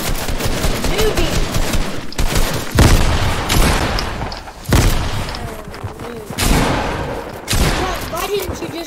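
Loud, rapid gunfire in the video game Fortnite, with repeated bursts of automatic fire and heavy shots that come close together, while players talk over the action.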